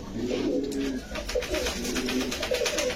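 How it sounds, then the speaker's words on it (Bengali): Pigeons in a breeder's loft cooing in repeated soft throaty phrases, close and clear throughout, with faint background chatter of other birds. "টকটকা লাল গিয়ার কবুতর।"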